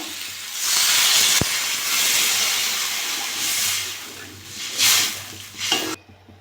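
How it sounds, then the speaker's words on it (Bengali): Water poured into a pan of sizzling bele fish curry with potato and green banana, giving a loud, steady steaming hiss that swells and fades across the clip, with brief bursts near the end before it cuts off. "ভালো করে কষে নিয়েছি আমি এবার জল দিয়ে দেবো"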